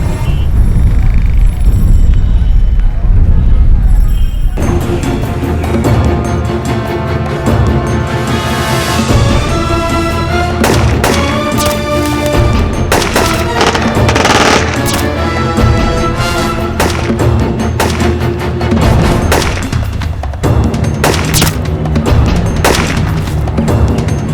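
Gunfire crackles through a TV crime drama shootout set near a jungle camp, with loud repeated shots and booms layered over a dense music score for most of the passage.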